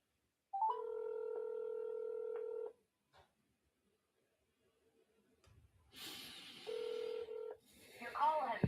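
Phone call being placed from a phone line, a long steady electronic tone, quiet gaps, then another shorter tone as a muffled voice and noise come in near the end.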